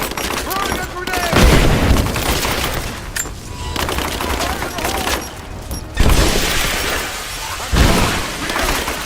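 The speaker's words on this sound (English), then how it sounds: "Throwing a grenade." Combat in Rise of the Tomb Raider, with heavy bursts of gunfire and booming blasts that include a grenade explosion, loud and close, while shouting voices run through it.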